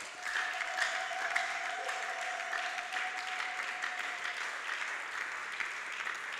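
A church congregation claps steadily and enthusiastically in a sustained, even round of applause filling the hall, with a faint voice or tone in the background.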